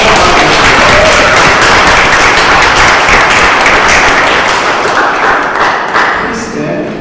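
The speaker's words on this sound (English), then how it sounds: "Let us give our Father a warm round of applause." Loud, dense round of applause from a church congregation after a funeral tribute at Mass, sustained throughout and tapering off near the end.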